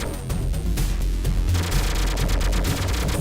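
Batarangs fired repeatedly in The Adventures of Batman and Robin video game, a loud run of rapid, even-spaced shooting blasts over constant game music with no talking.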